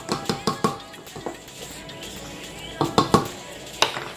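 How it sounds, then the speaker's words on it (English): A pot on the stove gets stirred, with quick rhythmic clinks and knocks of a utensil against its side in two short bursts separated by a quieter pause. "Just stir it a little bit."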